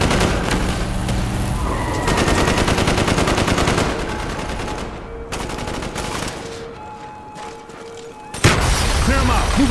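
Soldiers laying down covering fire in a street battle in Call of Duty: Black Ops, loud dense bursts of automatic gunfire and booms that thin out midway, then a sharp renewed blast near the end, with voices mixed in.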